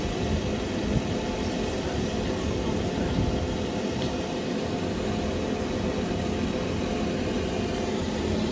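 Two-coach train 197018 at Shotton station, a steady continuous rumble of the unit running close by, broad and even throughout with no voices.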